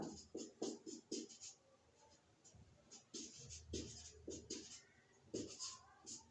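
A pen scratches out an answer on paper in short strokes and bursts with brief pauses, close and quiet, in a math lesson on discounts.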